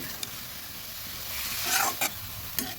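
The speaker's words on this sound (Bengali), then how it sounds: "দুটো কেরা কাঁচা লঙ্কা দিয়ে দিলাম হলুদ গুঁড়ো এবার সুন্দর করে নেড়ে দিচ্ছি" Green chillies and turmeric powder being stirred in a hot pan of fenugreek greens with beans and potato; a loud, continuous sizzle swells midway, and a few sharp spatula scrapes cut through it.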